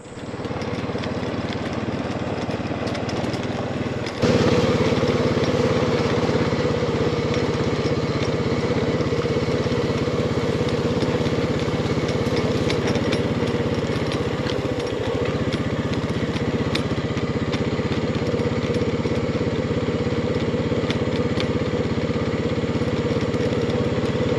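A four-wheeler ATV engine runs at a steady idle, a loud, continuous mid-pitched drone that steps up slightly a few seconds in and holds there without voices.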